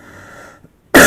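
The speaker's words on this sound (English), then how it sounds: "sorry, I have a little bit of cough." A single sharp cough bursts out loudly at the end, close to the microphone, after a quiet stretch.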